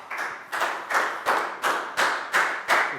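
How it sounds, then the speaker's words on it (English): A small group in a classroom claps in unison for a pupil, eight evenly spaced sharp claps in a steady rhythm, close and moderately loud. "Big round of applause for Lakgao."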